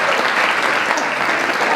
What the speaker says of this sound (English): Let's give a nice big round of applause for bachelor number 1.